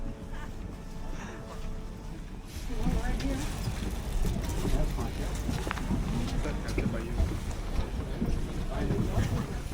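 A whale watching tour boat nears the dock, its engine a low, steady rumble beneath gusty wind buffeting the microphone and lapping water, swelling slightly louder as the vessel approaches.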